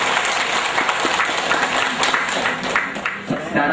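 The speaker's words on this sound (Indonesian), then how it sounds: "Tepuk tangannya dulu untuk para alumni warga belajar" Audience applause for alumni learners at a community literacy work-showcase event held at the deputy regent's official residence in Probolinggo: a dense, steady wash of many hands clapping, close and full, lasting the whole few seconds.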